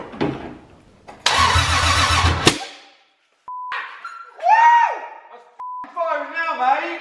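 A 2JZ-swapped BMW E36 cranks with a harsh burst of starter noise, then chimes and beeps sound between short engine revs, with people talking nearby.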